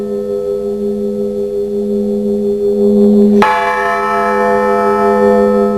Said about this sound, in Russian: Колокольный звон становится характерной чертой жизни общинников.